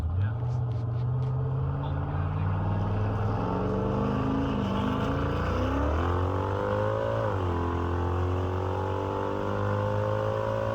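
Turbocharged F-body Camaro SS engine accelerating, revs climbing steadily through a gear with a rising harmonic whine, loud and close, with faint talk early on.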